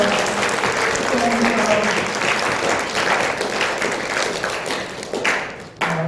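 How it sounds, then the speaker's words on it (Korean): A church congregation applauds at a Chuseok Sunday service to welcome a newborn baby, steady dense clapping filling the room and tapering off near the end. "우리 박수로 우리 환영 축하드리겠습니다"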